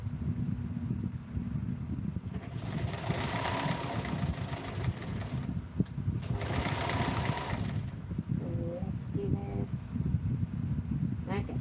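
A sewing machine stitches a hem in two bursts of steady, rapid whirring, close and fairly loud over a constant background hum, followed by a few faint clicks.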